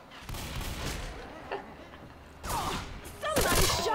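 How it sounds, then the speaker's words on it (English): Gunfire in Left 4 Dead 2 as bursts of shots ring out in a few loud clusters, with game sounds and brief vocal noises mixed in between them. "Somebody shot me!"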